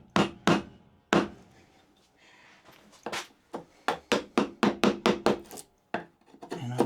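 Chisel struck into hardwood to sever corner fibers while building a saw vice, a run of sharp close knocks, first scattered and then a quick regular series of taps, with quiet pauses between.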